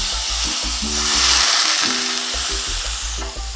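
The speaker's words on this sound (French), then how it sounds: "je mets les crevettes. Je vais déglacer avec un peu de rhum vieux." Shrimp sizzle and fry loudly in a hot pan, a steady hiss with stirring and pan scraping, before aged rum goes in to deglaze.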